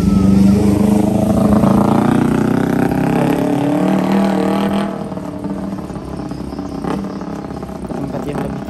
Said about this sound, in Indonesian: Sebenarnya ada beberapa motor yang memang nekat mengendarai motornya di jalan yang sudah terkena banjir